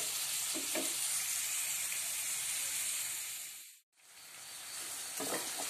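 Onion with a little garlic sizzles in a pan as it fries, making a steady broadband hiss that drops away briefly near the end and then resumes.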